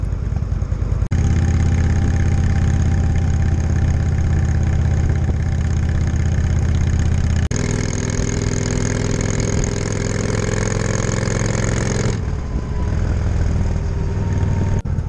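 A motorcycle engine idles steadily up close in a Tuscan village, a loud continuous rumble that shifts pitch slightly partway through before settling lower.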